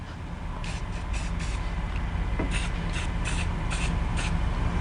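Repeated short hissing bursts of an aerosol spray paint can on an iron door, about ten quick sprays in two groups, over a steady background hum.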